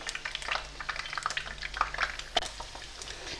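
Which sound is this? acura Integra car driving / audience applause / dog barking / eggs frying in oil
eggs frying in oil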